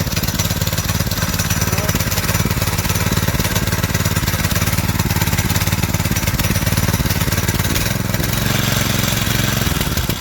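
A Predator 212 small engine fitted to a Volkswagen Baja Bug, with its chain rubbing inside the torque converter, runs loud and close with a steady, rattling, buzzing drone that holds constant throughout.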